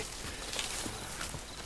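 Horses' hooves clip-clopping in Red Dead Redemption 2, a brief, faint patter of hoof steps under a steady wash of ambient game noise.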